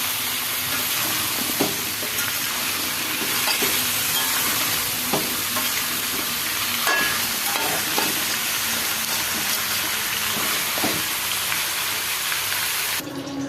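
Meat and onion fry together in a pan with a loud, steady sizzle, broken by occasional scrapes and taps of a spoon stirring.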